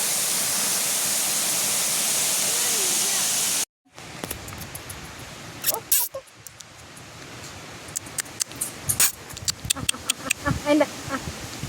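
Baker's Falls near Nuwara Eliya roars as a dense, steady rush of falling water for about four seconds, then cuts abruptly to a quieter scene with scattered clicks, bumps and soft rustling.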